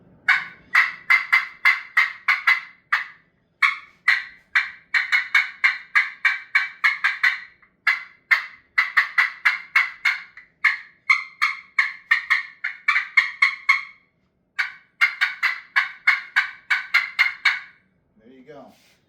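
Rapid, rattling gobbles from a turkey call, imitating two toms fighting: dozens of fast bursts in quick runs with short pauses, loud and close.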